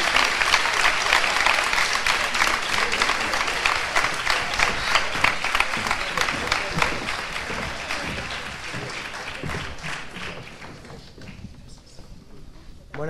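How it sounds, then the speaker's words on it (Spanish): A crowd at the opening of San Pedro's Fiestas del Pilar 2015 applauds the festival criers, dense, loud clapping that holds steady for most of the stretch before thinning and dying away near the end. "les damos un fuerte aplauso a los pregoneros de las fiestas del Pilar de 2015"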